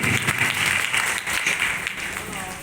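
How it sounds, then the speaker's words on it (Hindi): An audience at a business meeting in a hall claps in honour of a young member, a steady dense applause that eases slightly toward the end. "मैं चाहूँगा हमारे यंगस्टर ब्रदर इनके सम्मान में एक बार जोरदार तालियां हो जाए साथियों"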